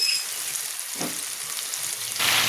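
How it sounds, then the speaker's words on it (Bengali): Spinach goes into a hot frying pan of oil with potatoes and vegetables for a Bengali chorchori, giving a steady loud sizzle that swells near the end, with no talking. "একটা পালং শাকটা তুলে দেবো"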